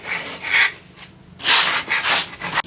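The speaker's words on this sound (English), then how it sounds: "Shall I scrape it?" Old coating scraped off porch tiles with a hand scraper: loud, close, rasping strokes in uneven bursts, a few short scrapes followed by longer harsh drags, with no talk.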